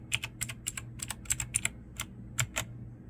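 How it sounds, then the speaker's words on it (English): Typing on a 60% compact wired portable mechanical keyboard, a dozen or so crisp key clicks in an uneven rhythm, close and clear, with no voice. "You can get to different keys by hitting FN and Alt and different keys on here."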